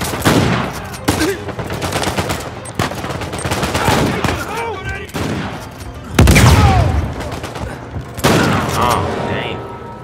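Rapid gunfire and heavy shotgun blasts from the video game Uncharted 4: A Thief's End, loud bursts repeating through the stretch with booming hits and echo, a voice talking between shots.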